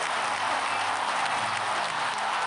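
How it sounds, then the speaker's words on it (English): Dense, steady applause fills the clip, a broad wash of many hands clapping at even loudness without pauses. "More applause."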